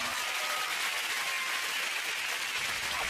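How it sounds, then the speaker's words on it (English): A studio audience claps steadily at a television quiz show, a dense even wash of applause holding at the same level for a few seconds with no voices over it. "The sound of the audience clapping there is what you want to hear tonight"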